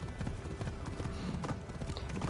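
A horse on horseback clip-clops at a quick gallop in the Assassin's Creed video game, its hoofbeats rapid and rhythmic over a faint background.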